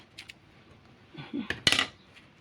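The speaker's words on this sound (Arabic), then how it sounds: "انا هرمي عليه الملح الاول" Salt poured and sprinkled into a burnt stainless or aluminium cooking pot, a few soft scattered ticks followed by a brief louder gritty rattle of grains hitting the metal, close and without talk.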